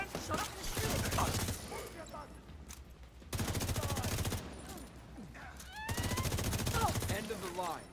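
Bursts of rapid automatic gunfire in a shooting video game, dense rattling volleys in three long stretches separated by brief quieter lulls, with game sounds and voices mixed in.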